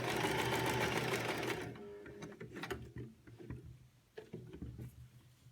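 A sewing machine runs steadily while stitching elastic onto a cloth face mask, loud and continuous for the first couple of seconds, then softer, intermittent stitching with small mechanical clicks and handling noise.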